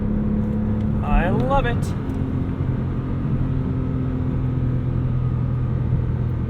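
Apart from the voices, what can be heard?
2008 Porsche 911 Carrera flat-six engine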